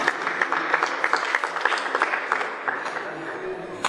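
Audience applause at an awards ceremony for students, a steady patter of many hands clapping continuously through the moment, fairly close and even in loudness, with a faint voice or two mixed in.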